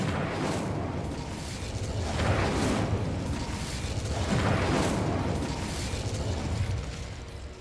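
An Incendio fire spell in Hogwarts Legacy, heard as a few soft whooshing bursts of flame that swell and fade over a steady rumbling bed, fairly quiet and with no voices.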